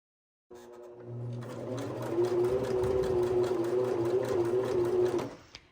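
Sewing machine stitching rope to make a coiled rope bowl, running steadily for about five seconds at close range with a constant motor hum and rapid needle rhythm, then stopping abruptly with a brief click.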